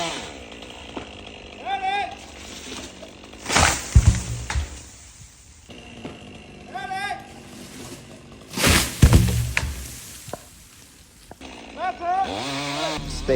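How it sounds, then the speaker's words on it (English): Cut pine log sections thud heavily onto the ground during a tree removal, several deep impacts spread through the clip, with a chainsaw whining at times and people talking in between. "These might not seem big, but check out the sound when they hit the floor."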